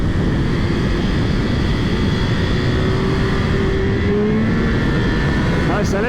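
A 2022 Triumph Speed Triple 1200 RR motorcycle is ridden hard, its engine tone rising under a loud, constant roar of wind rush, heard from the rider's position.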